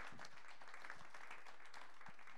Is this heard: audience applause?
yes